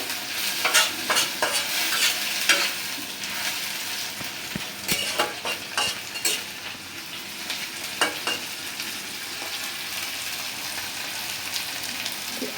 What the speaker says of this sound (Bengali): চিংড়ি মাছটা আমি আর আলাদা করে ভাজলাম না এই তেল পেঁয়াজের সাথেই একটু ভাজা নেব